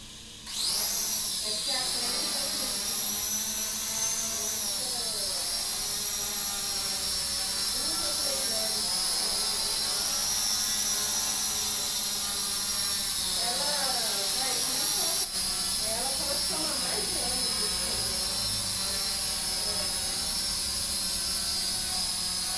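The motors and propellers of an SG106 drone spin up and hold a loud, steady high-pitched whine with a constant buzzing hum throughout, while someone speaks underneath.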